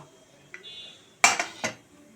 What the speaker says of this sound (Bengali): দেখো ফোড়ন দেবো বলে সিটিটা বার করে দিচ্ছি